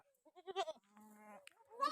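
A goat gives a short, wavering bleat at moderate distance, a single quavering cry in otherwise quiet surroundings.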